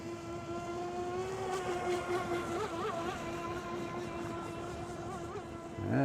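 A WLtoys WL912-A budget RC speed boat makes a full-speed flyby, its high, buzzing motor whine rising and bending in pitch as it passes close by, then falling off before a brief burst of noise at the end.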